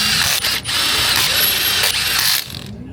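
A ratchet-type wrench tightens the wheel nuts on a Suzuki Swift race car in a circuit pit, giving a loud, continuous mechanical whirring rattle with brief dips before it stops.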